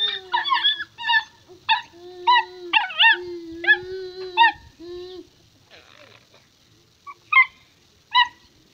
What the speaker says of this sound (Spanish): Mira, el perro